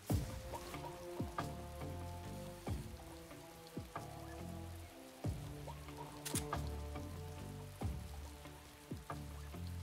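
Steady rainfall in Metal Gear Solid 3 patters softly and continuously, with scattered sharper drops and a low droning game ambience beneath.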